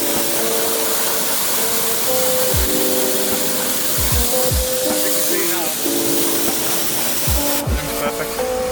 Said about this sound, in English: just waiting for Chris to finish off the hoover